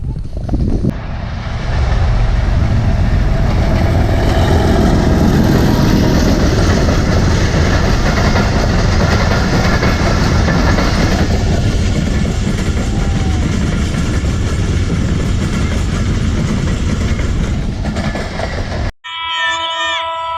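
A passenger train from Rawalpindi to Kohat running into Nur Junction, a loud, close, sustained rumble and rattle of wheels and carriages that holds steady for most of the stretch before cutting off abruptly.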